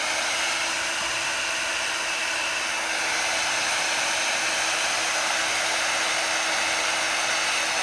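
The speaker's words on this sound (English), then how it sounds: "Always keep your heat gun in motion." A heat gun blows hot air over cardstock for embossing on a handmade Christmas card, a loud, unbroken whooshing whine held steady from start to finish.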